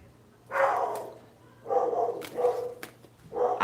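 A dog barks four times in short bursts at moderate distance, with brief pauses between, over a faint steady background hum and no talking.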